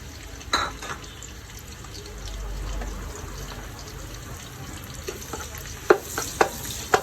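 Two chopped onions frying in a pan, a steady moderate sizzle with a few sharper utensil clicks and stirs toward the end, no one speaking.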